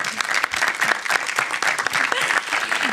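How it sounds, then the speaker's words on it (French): An audience at a film discussion event breaks into applause, a lively crackle of many individual claps at close range, sustained and fairly loud throughout, with no voices over it. "oui, on peut l'applaudir."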